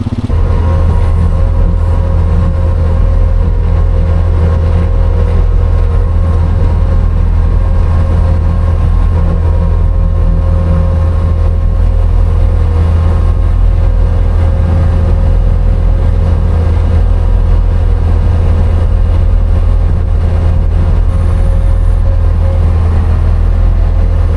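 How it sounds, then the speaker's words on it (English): Tractor engine running while mowing on a hay-baling farm, a loud continuous low-pitched drone with steady rumble throughout, no pauses, heard close. "Now I can do a little mowing here."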